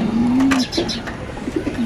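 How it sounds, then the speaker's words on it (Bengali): A Sirazi pigeon coos close by, one long low coo followed by short softer coos, over faint background noise. "একটা সিরাজি কবুতর,"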